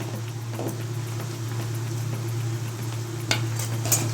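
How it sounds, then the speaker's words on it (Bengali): Fried onions with turmeric being stirred in a pan for Bengali chicken kosha: a soft, steady sizzle under a low continuous hum, with a few light scraping and tapping sounds from the utensil against the pan, no talk. "তো পেঁয়াজটা ভাজা হয়ে গেছে, আমি এখন একটু হলুদ অ্যাড করব।"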